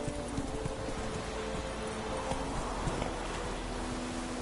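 Hooves of Roach, a horse in the video game The Witcher 3, clip-clopping in a steady walking rhythm over a dense, continuous background bed of game ambience.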